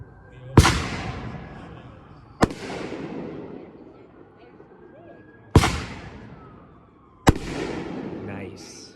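Nishiki willow 9-shot fireworks go off at a demo night, giving four loud booming bursts a couple of seconds apart, each trailing off in a long crackling shimmer, with some crowd voices underneath.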